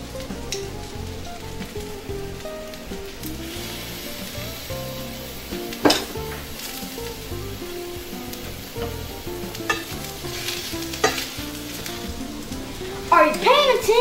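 Steaks sizzle and fry steadily in a hot pan seasoned with kosher salt and garlic, a loud continuous crackle with occasional scraping and clatter and a brief voice near the end.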